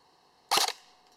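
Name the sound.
ARES Amoeba S-Class M4 airsoft gun firing 0.2 gram BBs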